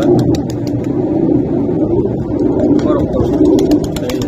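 Soft, low Pakistani Teddy pigeon cooing repeats from birds in breeding mode amid a busy background of chatter and distant engine noise.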